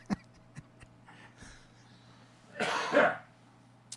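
A single harsh cough bursts out close to the listener after a few faint clicks and small noises in an otherwise quiet room.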